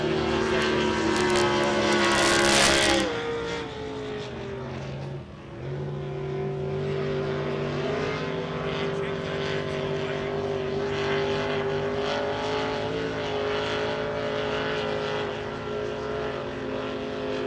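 Inboard power boats race on a river, engines roaring loud and sustained with shifting pitch as they pass, beneath a public-address commentator's voice.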